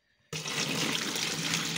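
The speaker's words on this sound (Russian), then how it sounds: "И выливаем тоже сок." Grape juice pours into a container for homemade wine, a sudden steady rush of liquid that starts after a short silence and continues close and even to the end.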